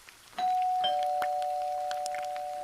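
A single bell-like electronic tone rings out and sustains, slowly fading, with faint clicks and rustles in the background.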